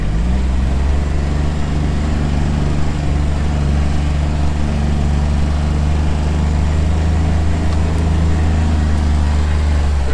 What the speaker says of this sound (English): Oh, I need to put this in four-wheel drive.